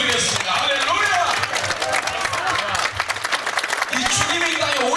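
A church congregation claps together in a loud, sustained burst during a worship service, with a preacher's voice and crowd noise mixed in over the clapping.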